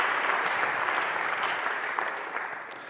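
Sustained audience applause at a Cradle to Cradle congress keynote, a dense, steady wash of many hands clapping throughout, tapering only slightly toward the end.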